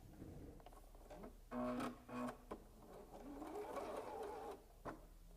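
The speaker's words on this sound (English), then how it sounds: "So we're going to sew right here, right where the fold is, just using your 1/4 inch seam." A sewing machine stitches a quarter-inch quilt seam along a fold, its short, quiet mechanical whirring in bursts among faint rustling handling noise, with no talk.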